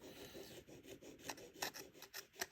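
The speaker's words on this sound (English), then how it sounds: "So we're going to get a file on top of it there." A file rasps across a small scratch-built model feather signal in quick, uneven strokes, close and quiet, each pass a short scratchy burst.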